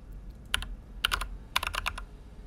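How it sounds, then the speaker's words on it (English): Computer keyboard keys clack in a video game, three quick bursts of crisp, close typing, each burst faster and longer than the last, with quiet gaps between. "Click on the keyboard."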